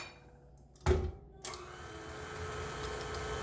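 An electric mixer blends three sticks of softened butter, starting with a sharp burst and then settling into a steady, moderately loud whir that runs on alone.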